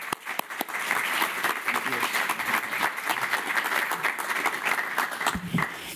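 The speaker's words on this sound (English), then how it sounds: "I ask you to give a big applause for Clarence to come on stage" Sustained audience applause as a speaker walks on stage at a talk on tackling racism in grassroots football, dense steady clapping with a few sharp individual claps and light crowd noise throughout.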